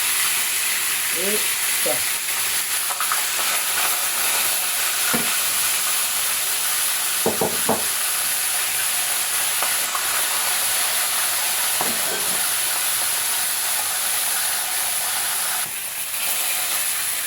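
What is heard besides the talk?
salted cod frying in hot oil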